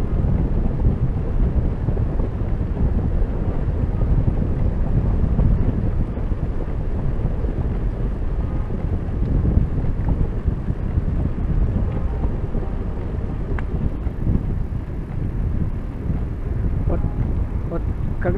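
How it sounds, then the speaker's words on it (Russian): Steady, loud wind buffeting the microphone of a cyclist riding into a headwind toward a mountain pass, a continuous low rumbling roar that barely eases over the whole stretch. "Почему ветер опять мне в лицо?"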